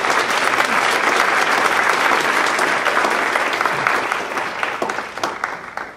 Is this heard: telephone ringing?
no